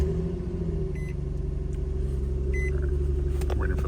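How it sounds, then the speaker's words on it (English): Infiniti G37S coupe with the key turned in the ignition, settling into a steady low idle rumble. Faint electronic chimes sound inside the cabin, heard up close. "So we're gonna start the car right now and turn the heater on."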